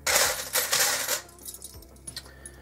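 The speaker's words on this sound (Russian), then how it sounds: "Еще куча ключей." A bunch of metal keys jingles and clinks as it is handled, found among scrap items at a German bulky-waste pile; a dense burst of bright rattling for about a second, then sparse light clicks and taps.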